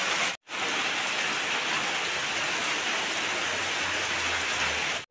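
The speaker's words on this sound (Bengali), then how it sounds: "বাড়ি যেতে যেতে বৃষ্টি চলে এসেছে" Steady rain pours down in a village, a dense close hiss that continues without a break apart from a brief dropout near the start, with no voices.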